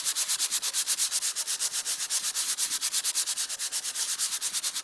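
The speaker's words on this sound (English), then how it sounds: "again you're sanding, but this time you're sanding all of" Sanding block rubbing across the outer surface of a debossed paper die-cut design, a fast steady back-and-forth scratching with even strokes, close and fairly loud, no voices.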